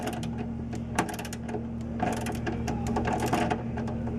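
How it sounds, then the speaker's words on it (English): A socket wrench turns a nut down on a RAM backing plate install, giving soft, close mechanical clicking in quiet bursts with a few sharper knocks. "make sure you hold this inner nut the entire time you're tightening it down"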